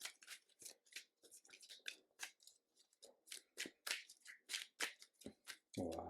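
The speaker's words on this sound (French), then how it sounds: "On va commencer par brasser les cartes" A deck of player cards for an Arkham Horror board game being shuffled by hand, a quick run of crisp riffling snaps and flutters, close and quiet, ending in a brief louder rustle.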